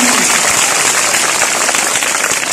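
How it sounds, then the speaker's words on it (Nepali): Loud, dense applause from a crowd of schoolchildren for a classmate named Salina, a continuous close wash of clapping that holds steady throughout. "सलिनाको लागि जोरदार ताली बजाइदिनु"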